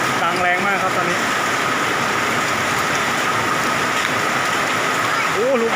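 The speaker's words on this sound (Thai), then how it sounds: "เสียงลูกเห็บนะครับเสียงกระทบหลังคาดังแรงมากครับตอนนี้" Hailstones pound a roof during a heavy hailstorm in Kham Cha-i, Mukdahan, a dense, loud, continuous roar of impacts close by, with someone briefly speaking over it at the start and end.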